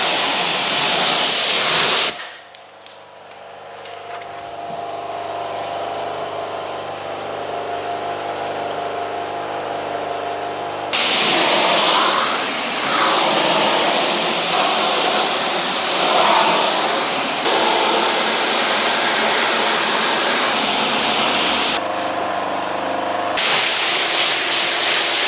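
A pressure washer runs steadily, spraying water over a car during a snow foam pre-wash, a loud continuous hiss that drops out for a stretch, resumes, and cuts briefly near the end.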